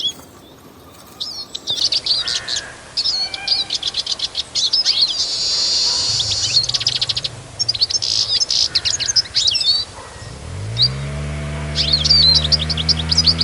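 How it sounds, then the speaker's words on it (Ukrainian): Goldfinches chirp and tweet repeatedly in quick bursts, bright and fairly close, with a steady low hum underneath and no talking. "Бачите, які файні птахи."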